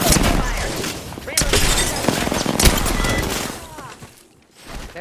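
Gunfire in the video game Apex Legends, a loud, dense fusillade of rapid shots and booms that fills most of the clip before dropping away near the end, with game sounds layered underneath.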